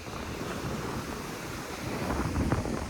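Ocean waves wash up near sand dunes at a beach, a steady broadband rush of surf mixed with wind buffeting the microphone, continuous and fairly close.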